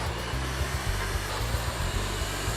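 A hair dryer blows steadily and close by while straightening a client's hair in a salon, its motor hum shifting slightly as the nozzle moves along the head.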